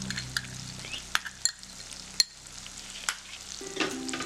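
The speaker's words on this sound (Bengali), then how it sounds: "পোস্ত বাটা দিয়েও কিন্তু সুন্দর করে মশলাটাকে কষে নিতে হবে।" Masala with poppy seed paste sizzles in a pan for fish curry as a spatula stirs it, with soft continuous frying hiss and sharp scraping knocks at irregular intervals.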